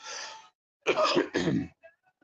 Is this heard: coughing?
yes